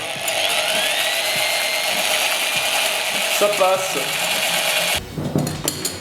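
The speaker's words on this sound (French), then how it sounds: "La perceuse ça marche, mais c'est clairement moins gratifiant" A high-pitched power drill whisking eggs and sugar in a bowl whirs steadily, with rising tones and a rubbing, rattling texture, then cuts off near the end; a brief voice speaks.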